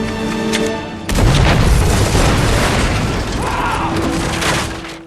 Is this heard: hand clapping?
no